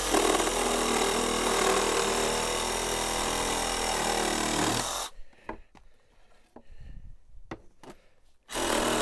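A power saw, likely a chainsaw, cuts through wood with a loud steady whine for about five seconds, then stops, leaving scattered knocks and handling noises before the saw roars back at the end.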